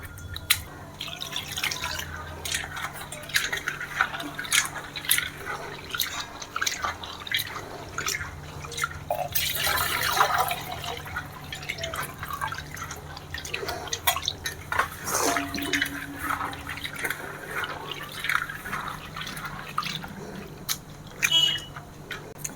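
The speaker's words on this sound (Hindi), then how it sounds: "इसको दाल को अच्छे तरह से धो लें।" Dal lentils are rinsed in water at home, with soft repeated sloshing, dripping and trickling close by, faint and intermittent throughout.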